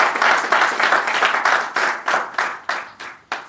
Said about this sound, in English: let us first clap hands for all the contributing playwrights